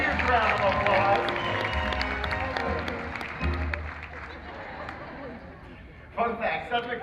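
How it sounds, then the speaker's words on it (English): Audience applause at the Universal Studios Hollywood special effects show: a loud, dense crowd clapping that fades over several seconds and then swells briefly again near the end, mixed with busy background noise and voices. "Give them both a huge round of applause."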